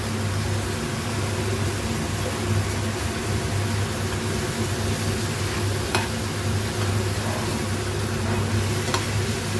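Vegetables with chunks of cucumber sizzle steadily in a hot pan as turmeric goes in, with continuous frying hiss and occasional scraping stirs, close and fairly loud, no talk.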